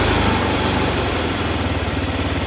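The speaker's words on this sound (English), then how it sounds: "Now we're in neutral, and I think it idles a little high" An ATV engine idling in neutral at a slightly high speed, a steady, loud, close mechanical drone with even pulsing and no talk.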